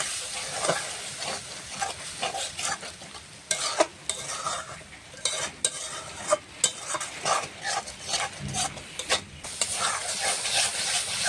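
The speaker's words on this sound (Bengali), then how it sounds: "মশলাটা ভালো করে কষানো হবে।" A spice paste of ground turmeric and coriander with a little water fries in a pan for a fish curry, giving a steady close sizzle broken by repeated scraping and clinking stirs.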